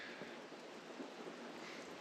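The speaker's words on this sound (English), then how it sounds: "The update is it's lashing rain." Heavy lashing rain falls steadily through the night at a seaside town in Scotland, a constant broadband hiss with no distinct drops, moderately faint and even from start to finish.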